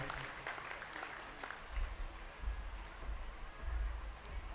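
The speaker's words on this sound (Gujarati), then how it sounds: "એક વખત જોરદાર તાળીઓથી આપણે પ્રવીણસિંહજી અને એના પરિવારને વધાવીએ" Applause for Pravinsinhji and his family rises at a village gathering, sounding faint and distant, with a low rumble and scattered clapping in uneven waves.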